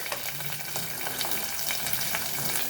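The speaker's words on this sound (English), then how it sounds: "Let us fry our chilies" Chilies frying in oil in a pan for Goan crab chilli fry, a dense continuous sizzle and crackle with light stirring, close and steady throughout.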